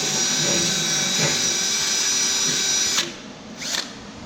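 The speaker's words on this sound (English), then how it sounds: "We're gonna go ahead and use a 1/4-inch drill bit, like they said, on this bottom hole and go ahead and drill that one out" Power drill with a 1/4-inch bit boring out the bottom hole of a bracket on a Polaris RZR XP Turbo, a loud steady high whine that cuts off at three seconds, followed by a short second burst.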